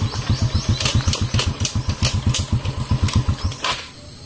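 A motorcycle engine cranks with rapid, rhythmic chugging pulses for several seconds, then the sound drops off abruptly.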